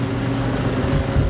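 A walk-in freezer's condenser runs with a steady, loud motor hum and low mechanical drone from its fan, one fan motor dead and the coil free of ice, continuous with no talking.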